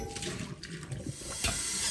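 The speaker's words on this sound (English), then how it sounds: "I'm going to wash this pot out." Water runs steadily from a kitchen tap while a pot is rinsed out, a continuous close splashing hiss with no talking.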